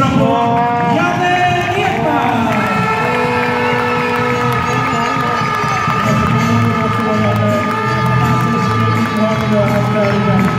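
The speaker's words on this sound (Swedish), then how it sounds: "Jag vill ge henne en stor applåd, Janne" Crowd at the end of a handball match between Guif and Ystad cheering and clapping, steady dense roar under amplified announcer speech and music.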